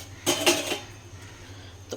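A metal wok is set down on a home kitchen stove, giving a couple of quick clanks and a short rattle, then a faint knock after a quiet pause over a steady low hum.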